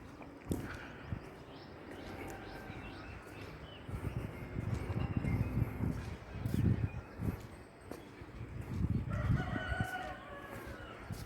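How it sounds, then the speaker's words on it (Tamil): A rooster crows outdoors near a gym during a Tamil workout session, its calls rising a few times over a steady background of breathing and movement, moderately loud and fairly close. "இப்போ கரெக்டாக அந்த கோழி கூறுறது"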